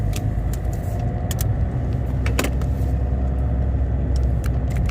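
A car rolls slowly through a parking garage with a steady low engine rumble, near and continuous. Scattered clicks and rattles come through but no one speaks.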